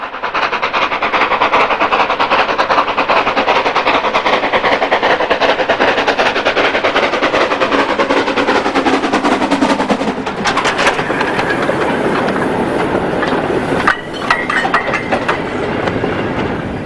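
A 1919 Hudswell Clarke 0-6-0 saddle tank steam locomotive, Renishaw Ironworks No. 6, running on the Tanfield Railway, a loud, continuous rumble with rapid rhythmic clatter and a sharp clank near the end.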